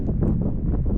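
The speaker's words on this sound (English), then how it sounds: "the wind is definitely not died down" Strong wind buffeting a microphone at an outdoor campsite, a loud continuous low rumble with gusty surges throughout.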